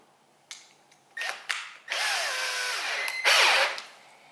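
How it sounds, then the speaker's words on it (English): Power drill with a 3.5mm bit boring into plastic for a cutaway mount install: a few short trigger bursts, then a sustained whining run with rising and falling pitch, close and fairly loud. "When we're drilling this type of plastic, we want to be very gentle with the drill."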